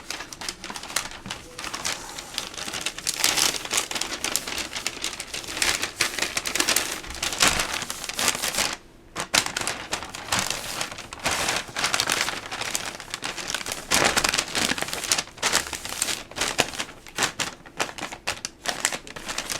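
Wrapping paper being folded and creased by hand into a gift bag, a steady run of crisp crinkling, rustling and tapping close up for about twenty seconds, with a brief pause midway.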